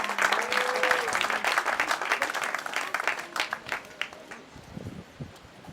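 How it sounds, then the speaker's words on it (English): Wedding guests applaud the event crew with a lively burst of clapping that thins into scattered, separate claps toward the end, with a faint voice or tone briefly mixed in early on. "A big applause to some of the people who are here to cover the whole event."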